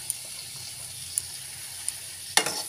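Spiced chickpea and potato curry being stirred in a pan, a soft steady sizzle with a few sharp spoon clicks against the pan and a louder scrape near the end.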